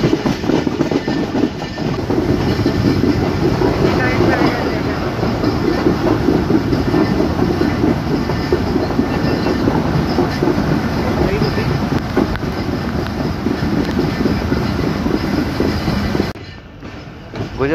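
The Pakistan Express rolls between Dina and Rawalpindi in rainy weather, a loud, continuous rumble and clatter of wheels on track with wind buffeting the microphone, cutting abruptly near the end.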